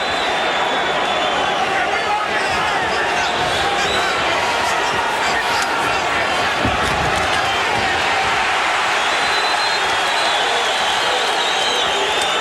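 Boxing arena crowd noise swelling as a round nears its close in the Ray Mancini vs Hector Camacho fight, a broad steady roar with cheering throughout, with a commentator talking over it.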